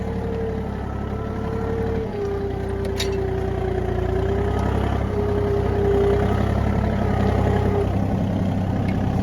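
A Japanese tractor runs steadily while tilling soil, its engine giving a continuous mid-to-low rumble with a faint whining tone on top, and occasional knocks and clatter from the tiller.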